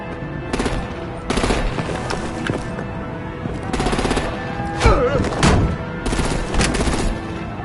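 Bursts of artillery and automatic gunfire in Batman: The Telltale Series, several loud volleys separated by short gaps, with brief voice sounds mixed in around the middle.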